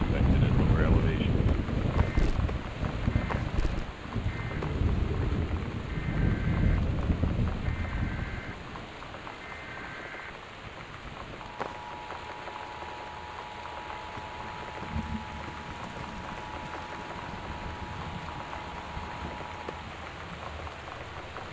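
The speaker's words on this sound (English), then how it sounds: "The Northwest Weather Service reports high winds and torrential rain." Heavy rain pours steadily in the video game Gone Home, loud at first, then softer and more distant after about eight seconds. A low rumble of thunder rolls underneath, with no talking.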